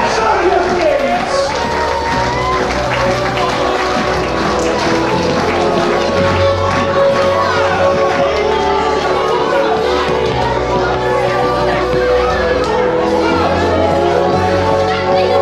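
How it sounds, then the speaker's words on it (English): Loud crowd noise at a 2005 wrestling battle royal event, a dense continuous roar of voices and shouts holding steady throughout with cheering swells over a low rumble. "let's make some noise for our last match tonight. Clap your hands, show your feet."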